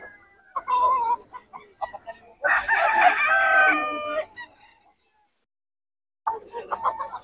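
Several roosters for sale at a Bocaue market crow loudly up close, a long harmonic crow in the middle flanked by shorter calls and clucks, a gap of silence, then another crow beginning.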